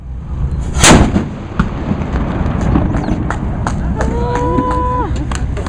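A cannon fires once in a historical demonstration at Jamestown Settlement, a loud close boom early on followed by rumbling ambient noise, with people talking nearby.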